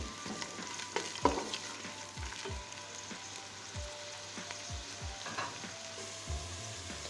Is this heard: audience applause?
no